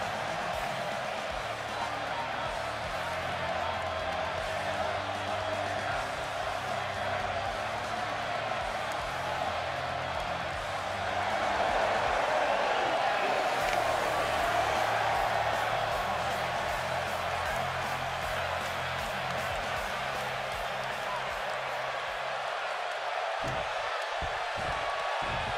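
A sold-out arena crowd roars in the WWE 2K19 wrestling game, a steady dense wash of cheering that swells briefly midway, with a commentator talking over it.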